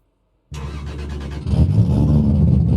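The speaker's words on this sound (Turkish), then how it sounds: "Aracın önce dışarıdan size sesini bir duyurayım" A modded Toyota Supra engine in Euro Truck Simulator 2 cranks and catches, idling briefly before revving up to a steady, louder rumble that holds to the end.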